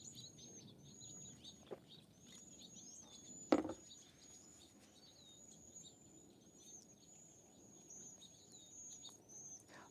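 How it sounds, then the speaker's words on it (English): White-crowned sparrows calling in a backyard bird garden with feeders, thin high whistled notes repeating steadily at a moderate distance, with a single sharp knock or thump partway through and quiet ambient background. "what's out there right now is the white-crowned sparrows"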